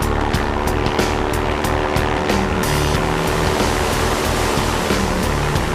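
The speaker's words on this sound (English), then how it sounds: "As the plane hits the lake, Jim must immediately throttle up the engine" Water-bomber plane skimming across a lake surface to scoop water: loud, continuous rushing spray and splashing churn over a deep engine roar, with sharp bursts of impact, sustained without voices.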